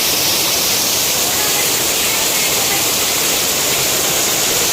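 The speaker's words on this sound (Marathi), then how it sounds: "जोरदार पाऊस आहे. पूर्ण एवढा पाऊस आहे की बापरे." Heavy rain pours down outside in a dense, unbroken roar, loud and constant throughout, with no other sound breaking through.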